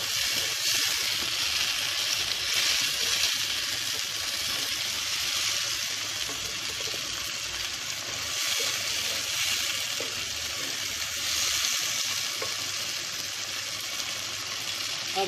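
Chopped tomatoes sizzle steadily in a hot pan of okra masala, a loud even hiss of frying that carries on without pause.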